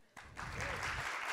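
Audience at a live inspirational comedy event bursts into applause after a brief quiet moment, the clapping swelling quickly and holding steady at a moderate level.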